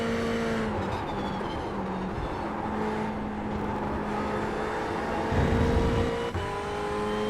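Race car engine in the iRacing VR sim racing game, a steady loud droning whine holding pitch with small shifts through gear changes, continuous and close for the whole stretch.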